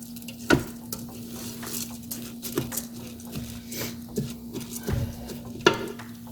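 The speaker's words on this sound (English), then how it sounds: "Okay, it's starting to sizzle." Rice sizzling in a pan with a steady crackle, punctuated by periodic scraping clacks of a spoon stirring, and a low hum beneath, while cooking smothered burritos.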